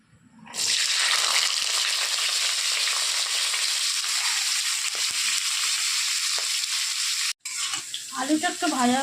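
Chopped potatoes hit hot oil in a pan and burst into a loud, steady sizzle that holds for several seconds, then cuts out briefly before some stirring and spluttering.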